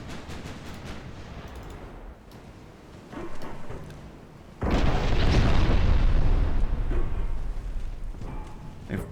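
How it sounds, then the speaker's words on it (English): A 6-inch naval gun firing in a dreadnought warfare game, heavy booms amid rumbling battle noise, with a loud sustained explosion roaring up midway and slowly fading. "Cheeky little 6-inch shot."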